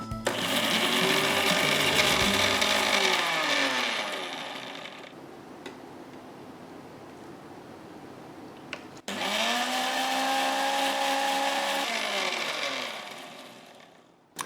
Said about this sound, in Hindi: तो अभी करते हैं मिक्सी का काम